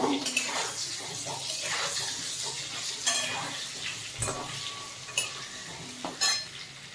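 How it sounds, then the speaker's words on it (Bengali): Potatoes fry in mustard oil in a wok, giving a continuous close sizzle broken by scraping stirs and clatters at irregular intervals. "এবার ভেজে নেব"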